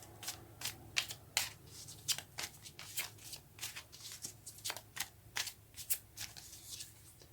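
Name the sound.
shuffling tarot cards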